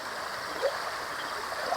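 Strong, murky stream current rushing steadily at night, a broad continuous wash of water noise with no talk over it.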